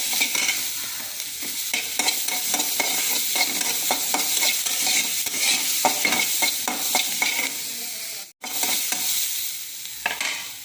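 Onion and capsicum sauté in oil in a pan as a spatula stirs and scrapes in quick repeated strokes over a soft sizzle, with one short break near the end.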